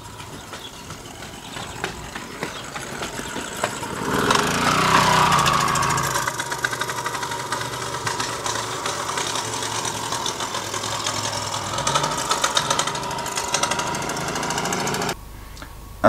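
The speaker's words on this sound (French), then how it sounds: "Impeccable, le Solex tourne super bien" A restored 1966 Solex moped engine starts and runs, a loud rapid buzzing putter that swells around the start and then settles into a steady close idle before cutting out near the end, no talk.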